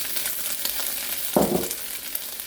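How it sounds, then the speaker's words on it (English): Chinese sausage hits hot, smoking oil in a wok and bursts into a sudden loud sizzle that fades into steady frying, over a soft background hiss, with no talking. "Now we'll add the Chinese sausage."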